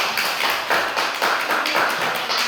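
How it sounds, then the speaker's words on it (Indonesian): Children in a classroom clap for a classmate named Lala after a maths answer. The applause is a steady, lively patter of many small hands that continues for a few seconds with no talking. "Tepuk tangan dulu untuk Lala."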